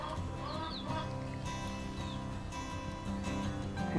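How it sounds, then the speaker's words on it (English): Several young Old English Game hens, 8 to 12 weeks old, cluck and chirp in a steady, busy chorus nearby, with overlapping calls and a constant low background hum throughout. "Here are my old English game birds."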